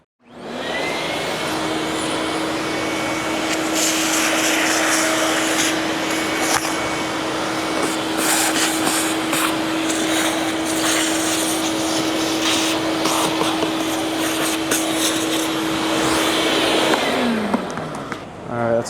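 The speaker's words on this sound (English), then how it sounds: "let me get the vacuum cleaner and vacuum just some of this top stuff out" Vacuum cleaner running inside the HVAC area of a 2011 Ford F250 truck in a barn, a loud continuous whine with a steady hum that starts abruptly, shifts as the nozzle moves through debris, then winds down.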